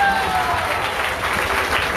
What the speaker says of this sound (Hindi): तो एक बार सब आप अपने लिए जोरदार ताली बजाएं।